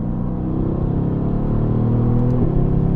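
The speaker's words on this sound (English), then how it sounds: "I've got the same rifle cracks that sound like fireworks out of the tailpipe" A Mercedes-AMG GT C engine rumbles and revs steadily at close range with a deep, continuous exhaust note and a slight rise in pitch toward the end, with no voices.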